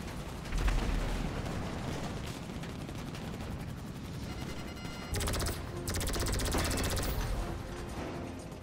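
Rapid turret gunfire from an Avenger aircraft in GTA 5, sustained bursts of crackling fire over a constant engine drone, loud and continuous with short pauses, no speech.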